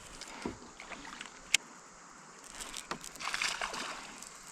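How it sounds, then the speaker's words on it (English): Paddle strokes and water sloshing from a small boat floating down the Powell River in Virginia, with soft irregular dips and splashes close by and one sharp knock, over a quiet outdoor background. "So let's get to paddling, boys."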